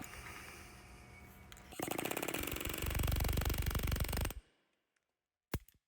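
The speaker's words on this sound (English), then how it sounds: "We need to stake that axle nut." A close, loud air hammer staking an axle nut on a 2001 Land Rover Discovery 2 during a front wheel bearing replacement rattles in a rapid burst for a couple of seconds, then cuts off, followed by a brief clank.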